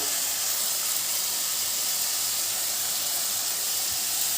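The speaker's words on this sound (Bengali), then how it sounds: "এটাকে আবার নেড়ে চেড়ে ভাজতে হবে দিয়ে দিলাম যে রসুন" Minced garlic frying in a pan while preparing a Bengali water lily (shapla) bhaji, giving a steady, close, even sizzle and hiss throughout with no talking.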